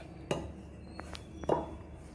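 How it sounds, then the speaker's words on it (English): A spoon works semolina batter and orange juice in a bowl for orange semolina idli, giving a few sharp clinks and scrapes at irregular intervals, close and fairly quiet. "let's add the juice little by little and mix well"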